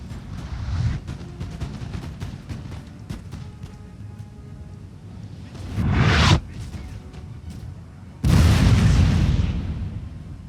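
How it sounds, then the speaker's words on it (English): Grapeshot artillery fires in Napoleon Total War during an Austria versus France battle. Dense crackling and popping runs throughout, with two heavy, close booming blasts surging in near the middle and end. "Just close enough over here to start using grape shot."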